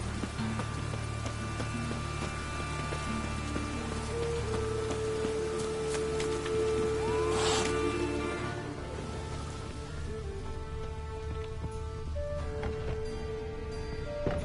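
Steady rain falls and patters on surfaces in the video game The Witcher 3, with a constant hiss throughout and a few tonal sounds drifting through the background.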